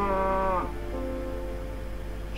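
A cow in the video game Minecraft gives a drawn-out, falling moo over a steady low hum, then fades into quiet background.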